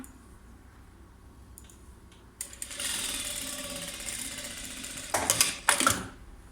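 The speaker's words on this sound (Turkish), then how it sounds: "Şimdi burayı dikiyorum. 1 santim dikiş payı vermiştim." A sewing machine stitching a side pocket seam on fabric, a steady mechanical whir for a few seconds ending with a couple of sharp bursts, fairly quiet and close.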